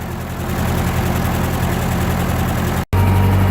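A 1941 Ford 9N industrial tractor engine, previously sold as non-running, idles steadily and loudly up close, with a brief dropout near the end before the low rumble resumes.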